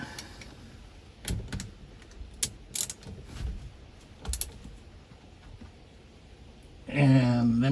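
A ratchet tightens a screw while a yoke steering wheel is fitted to a car, giving soft irregular clicks and taps, close and moderately quiet, followed at the end by a brief louder whirring burst.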